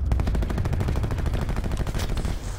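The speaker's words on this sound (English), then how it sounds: "Sounds like they might be shooting at him." Rapid automatic gunfire in an online shooter game, a dense, continuous burst of shots with a loud, crackling, clipped quality.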